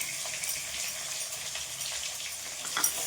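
Two large sliced onions sautéing with salt in a pan for drumstick leaves rice, a steady soft sizzle and hiss with faint stirring scrapes, fairly close and quiet, with no voice.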